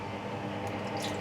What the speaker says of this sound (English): now we put the water, just no more water from the tap